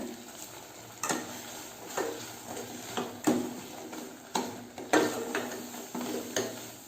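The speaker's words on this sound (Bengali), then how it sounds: "তো চিনিটা দেওয়ার পর এটা ভালোভাবে এভাবে নাড়তে হবে।" Sandesh mixture being stirred in a pan right after sugar is added, giving repeated scraping strokes at a steady rhythm over a low, soft sizzle, close and moderately loud with no talking.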